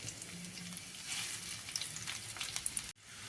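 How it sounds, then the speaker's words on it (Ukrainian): Chopped onion sizzles quietly in a frying pan with a soft, even crackle. It stops abruptly near the end. "Цибулю відправляю обсмажуватись на пательню"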